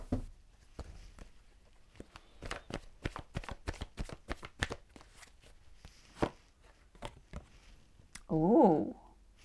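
Tarot cards are shuffled in a run of quick, crisp riffles and taps close by, ending with a brief voice.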